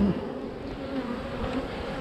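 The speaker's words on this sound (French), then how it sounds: "Ah, pourtant il y a encore des abeilles," Honey bees swarming around a hive fill the air with a steady, close buzzing drone that holds evenly throughout, with no voices.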